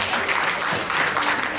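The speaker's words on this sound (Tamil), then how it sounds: "ஒரு பெரிய கைத்தட்டல் கொடுத்துடலாமா?" Audience applause after a Dasavatharam classical dance performance at a grand finale, a brief, loud, dense burst of many people clapping together that carries evenly to the end.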